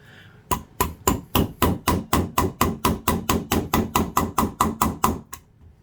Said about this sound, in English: half of that was actually just hammering that into the wood, and half of it was actually turning it